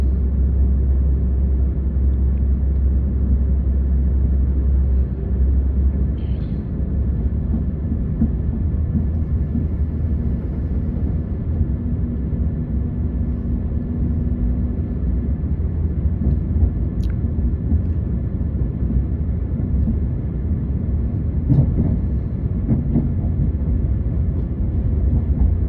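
A train pulls out of Nairn station in Scotland, heard from on board as a steady, loud, low rumble with rolling wheel noise throughout and a few faint clanks.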